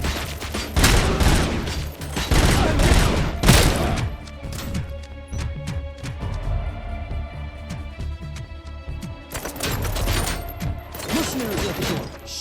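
Cobra assault cannon fire in the RoboCop video game: heavy, dense bursts of explosive gunfire and crashing impacts, loud and close, with sustained rumbling between volleys and no talking.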